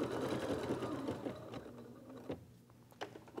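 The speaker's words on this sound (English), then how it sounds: "we can go ahead and start this stitch sequence to stitch the beak" An embroidery machine stitches a beak in orange thread on an in-the-hoop egg holder, a close, steady rapid mechanical whirr that thins out toward the end with a couple of sharp clicks.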